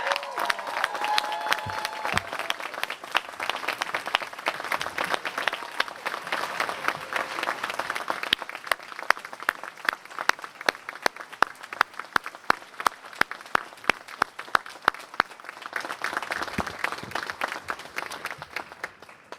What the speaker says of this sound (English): Please give a round of applause to our doctoral degree recipients.